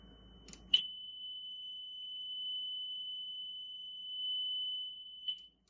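A single pure 3 kHz test tone sounds for about four and a half seconds after a click, then cuts off.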